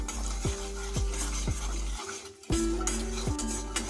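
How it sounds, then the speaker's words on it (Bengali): A spatula scrapes turmeric and chili powder around a wok over a low flame, with steady rhythmic strokes about twice a second over a constant background hiss, close and fairly loud. "এটাকে আমরা মিনিট খানিক ধরে লো ফ্লেমে নাড়িয়ে নেব"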